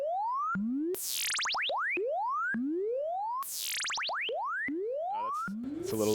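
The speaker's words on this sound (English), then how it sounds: "take the envelope out and route that to the LFO frequency speed" A Monolab 1210 synthesizer plays rising sine-like sweeps whose repetition rate speeds up and slows as an envelope modulates the LFO speed, giving a loud, bouncy chirping pattern that resets twice, alone without voices.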